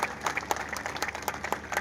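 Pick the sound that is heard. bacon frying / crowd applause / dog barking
crowd applause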